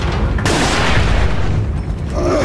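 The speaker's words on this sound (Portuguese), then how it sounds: "E já tem JJ atirando" Gunfire in a modded Resident Evil 4 game, with a loud, dense burst of booming shots and rattling blasts that fills the whole brief moment.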